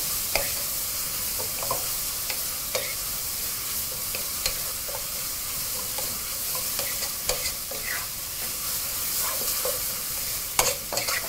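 Red and white onions frying in a pan give off a steady bright sizzle, with frequent scraping clicks from constant stirring throughout.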